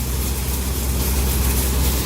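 Threshing machine driven by a 35 hp tractor, a steady loud mechanical rumble with dense broadband clatter running evenly and close throughout, no voices.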